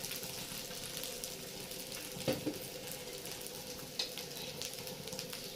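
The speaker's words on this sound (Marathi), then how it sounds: "आता याच्यामध्ये आपण वरून थोडंसं तेल टाकूया" Oil sizzles softly around a fasting thalipeeth frying on a tava, a faint steady crackle with a couple of light clinks, no voices.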